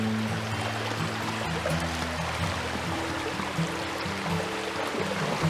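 Creek water running past a log jam in a wooded Carolinian forest creek, a steady broadband rush and trickle that holds at an even level throughout, with a low tonal hum underneath and no talking.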